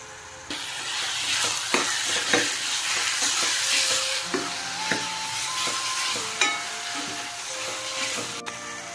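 Chilli powder, kasuri methi and garam masala frying in oil for a Hyderabadi mutton curry, the spice paste hissing and sizzling steadily under repeated close stirring strokes and occasional scrapes against the pot, no voices.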